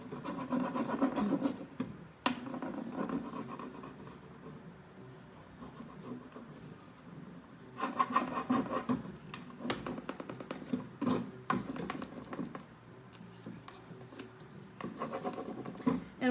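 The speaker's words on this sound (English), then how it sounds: "So it takes a little bit of elbow grease to rub these on, just like regular transfers." Steady hand rubbing presses an adhesive transfer onto a wooden stool, close scratchy friction strokes in uneven bursts with short pauses and occasional knocks against the wood.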